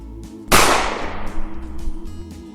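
A single sharp gunshot in Fallout: New Vegas with the Enclave Rising mod, loud and close, cracking suddenly and then trailing off in a long, fading echo over quiet background tones.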